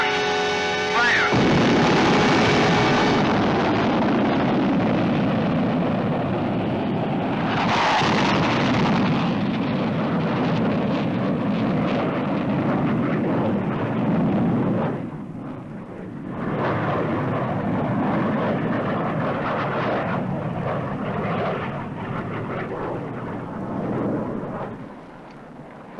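A rocket with a booster fires on launch, a loud continuous roaring rumble that swells and holds for many seconds, dipping briefly before the deep roar resumes and carries on.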